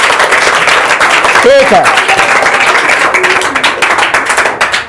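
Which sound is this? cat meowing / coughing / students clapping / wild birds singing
students clapping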